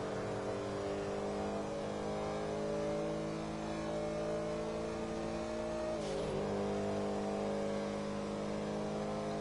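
A car engine in GTA V pulls hard at speed on a straightaway, heading toward 120 mph. A loud, steady drone sounds alone without a break, with a brief shift or bump partway through.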